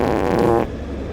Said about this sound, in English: Oh, and he fart again.